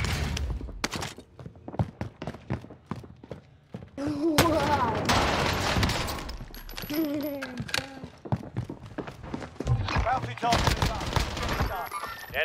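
Gunfire in Call of Duty Warzone on Rebirth Island: rapid automatic bursts and single sharp shots crackling close by, with heavier sustained firing in the middle and brief game voice callouts mixed in.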